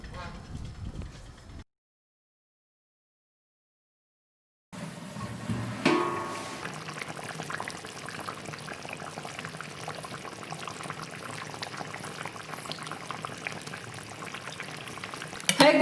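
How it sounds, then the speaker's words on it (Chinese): Pork ribs simmering in a covered pot over low heat, a soft, steady bubbling that cuts out briefly near the start and then returns at low volume. "盖上锅盖，小火慢炖1个半小时"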